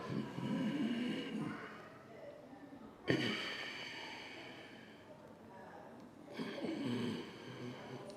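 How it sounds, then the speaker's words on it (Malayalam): Slow, deep belly breaths are drawn in and released in a demonstration, with three long, close, airy inhale-exhale cycles separated by short pauses. "ആ സമയം ഒന്ന് ശ്വാസം വയറ് കൊണ്ട് ശ്വാസം വലിക്കുക"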